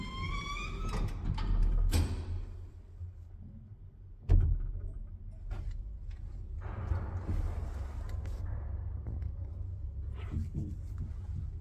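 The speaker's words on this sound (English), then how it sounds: "Doors closing." The doors of a 1932 Waygood Otis lift, modernised in 2006, slide shut with a mechanical rumble and a sharp thud, then the car hums steadily as it moves.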